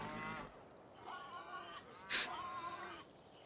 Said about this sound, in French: Ah les mecs, les vaches, ils sont en liberté là.